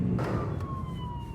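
A fire brigade siren passes a car in traffic during a snowstorm alert, a falling wail carried over loud road and engine rumble, brief and fairly close.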